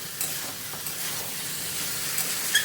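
Chicken curry sizzles and fries steadily in a pan while being stirred, with soft scraping and a continuous close hiss.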